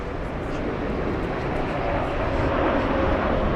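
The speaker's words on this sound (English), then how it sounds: "This is Condor flight 2455 inbound from Vancouver, British Columbia on the A330-900." A Condor Airbus A330-900 airliner on its landing approach at Frankfurt airport gives off a steady, broad jet roar that swells slightly toward the end, loud and continuous with no gaps.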